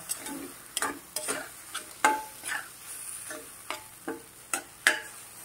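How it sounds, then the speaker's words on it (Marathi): Soaked chickpea bhaji stirred in a pan over medium gas, a quiet sizzle broken by about a dozen sharp spoon scrapes and taps at an irregular rhythm, close and alone. "अधून मधून तुम्ही हलवत राहा।"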